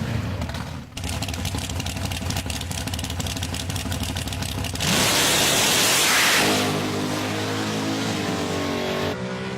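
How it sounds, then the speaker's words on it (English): A dragster at a big block Ford drag race roars past with a loud, rapid engine rasp, then a broad whooshing surge as it passes, followed by another car's engine idling and revving nearby. "My run goes to Bob Shrewsbury in the Christine's Dragster, 480 dial in."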